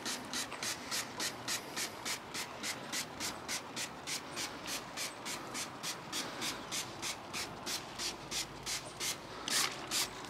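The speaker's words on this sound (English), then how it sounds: "Spray all over." Car detailing product sprayed over car paint in a long run of quick, even trigger pumps, each a short hissing burst, close and steady with no talk.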